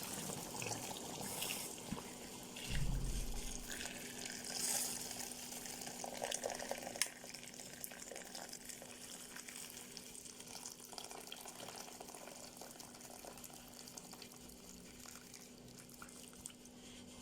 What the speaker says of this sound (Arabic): ابتدي انزل بقى بالميه السخنه بتاعتي